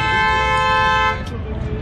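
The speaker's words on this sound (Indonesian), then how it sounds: "Klakson lagi." A vehicle horn on a street in India blares as a long steady honk for over a second, then cuts off, leaving busy street noise and faint voices.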